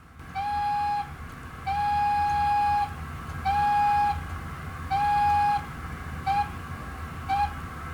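A model train's steam whistle sounds in a series of short and long blasts, six in all, over a steady low mechanical rumble.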